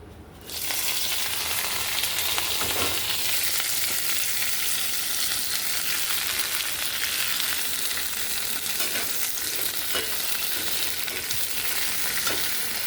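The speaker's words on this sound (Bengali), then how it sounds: "এই পাট শাকটা একটু ভেজে নেব" Jute leaves fry in oil in a pan in a village kitchen. A steady, dense sizzle runs from start to finish, and faint stirring scrapes rise now and then. There is no talking.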